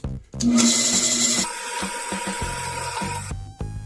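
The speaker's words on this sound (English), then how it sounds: "drill a hole through a piece of scrap material" Drill press boring a hole through a scrap piece of wood, a steady close grinding rasp with a whining tone that runs for about a second and a half, then a rougher scraping and rattling as the bit works through.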